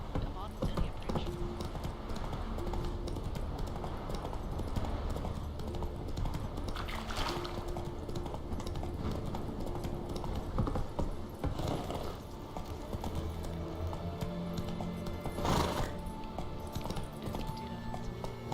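Geralt's horse Roach trotting in Witcher 3, a steady rhythmic clip-clop of hooves on the ground running throughout, with game ambience and occasional louder hoof clatters.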